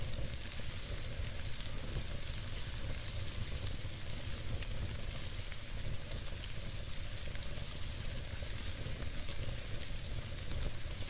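Onions and peppers sizzle steadily on a hot grill, an even, unbroken crackling hiss with no voices, holding at constant volume throughout.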